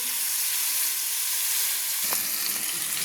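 Pointed gourd frying in a covered pan gives a steady, close sizzling hiss that holds for about three seconds, with a brief soft clink partway through and no voices.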